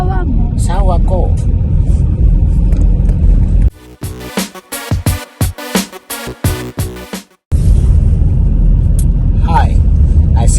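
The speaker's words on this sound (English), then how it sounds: "We are driving here in the middle of nowhere." Car driving along a remote rural road, a steady low road rumble and engine hum under people talking in the cabin, broken by a few seconds of clattering, pulsing interior noise before the drive noise resumes.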